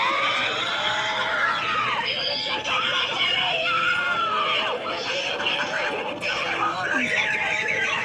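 A person screams loudly and continuously, voice strained, with chatter and other voices mixed in throughout.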